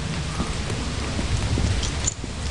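Rain falls in the video game Lethal Company as a steady hiss of drops on surfaces, with faint low rumbles beneath and no voices.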